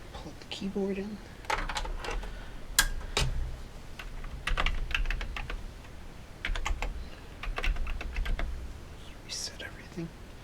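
Keys clatter on a Coleco Adam computer keyboard on a workbench, in irregular bursts of close, sharp clicks and taps spread across the clip, with a few soft thumps in between.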